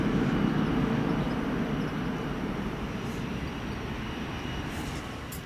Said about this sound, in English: This aircraft is very old, as it is 21 years old, Boeing 737-800